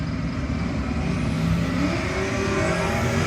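A 1963 Dodge Polara and a 2004 Mustang at a no-box drag racing shootout, heard as a loud, steady roar of racing engines close by, without pause.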